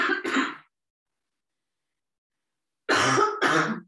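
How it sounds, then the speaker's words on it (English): A woman coughs twice, a short close pair of dry coughs, then after nearly two and a half seconds of silence two more coughs come in quick succession during a yoga or stretching session. "Pardon my coughing"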